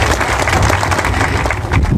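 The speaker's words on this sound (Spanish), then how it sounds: "vamos a rogar un fuerte aplauso" A crowd at an outdoor cabildo in Valle Alto applauds steadily for the youth, a dense, continuous wash of clapping and crowd noise that stays loud throughout.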